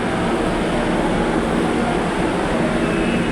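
An MRT metro train runs northbound along Ortigas Avenue in Pasig City, its loud, steady rumble and roar filling the whole stretch without any talking.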